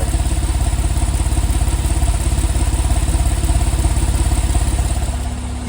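Idling dual exhaust of a 2009 Porsche 911 Cabriolet (997.2) heard from the passenger side, a steady close, loud low burble with even rhythmic pulsing and no talk over it.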